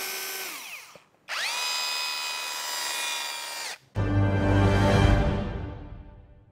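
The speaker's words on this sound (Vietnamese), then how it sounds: "tiếng máy của thằng Yamasu" A Yamasu cordless concrete hammer drill whirs up to a steady high-pitched whine, stops, restarts, then gives way to a lower, rougher running burst, close and loud with no voices.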